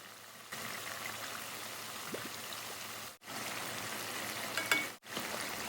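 Steady, close sizzling of pork belly stir-fried with red curry paste in a pan, with faint scraping as it is stirred, briefly interrupted twice.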